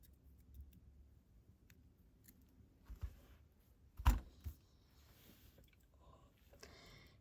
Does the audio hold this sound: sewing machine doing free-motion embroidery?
no